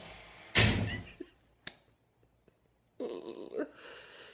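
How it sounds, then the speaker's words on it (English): A door shuts in a home: a loud thump, then a few softer knocks and clatters, with faint breathing and a louder burst of handling noise near the end. "Shut that door."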